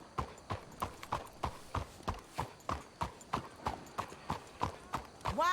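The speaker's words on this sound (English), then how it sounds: "Let's hitch the horses up ahead." Horse hooves clip-clop in the video game Red Dead Redemption 2, a steady, even trotting rhythm of clear, close hoofbeats continuing throughout with no talk over them.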